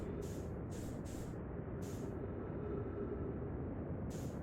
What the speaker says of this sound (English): I can burn through my fuel and start spraying oxygen everywhere